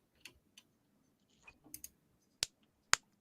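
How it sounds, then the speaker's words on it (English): Two sharp, isolated hand claps ring out about half a second apart in a quiet room, preceded by a few faint small clicks and taps. "No, I'm clapping for sound."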